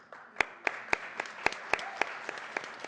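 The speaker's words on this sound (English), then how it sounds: "A good water escape, always deserving of applause." An audience at a live speedrunning marathon event claps in applause, a scattered crowd of distinct sharp claps ringing out steadily over a soft background of many hands.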